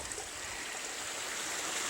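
Creek water flowing steadily through a rural property on a spring day, a soft continuous wash of moving water heard nearby with no voices over it.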